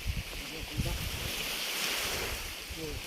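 Surf washes in continuously at Pasulok Beach, Ragay, Camarines Sur, while wind buffets the microphone, a rough roar with low rumbling gusts and no talking.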